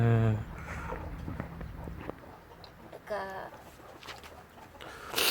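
Chickens cluck in short bursts near and far on a rural Thai farm, with footsteps and a voice talking between the calls.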